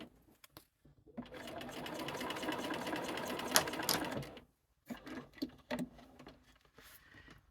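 Quiet, close rapid stitching of a sewing machine running a quarter-inch foot along a marked line on quilt fabric, a single burst of about three seconds with faint handling clicks before and after.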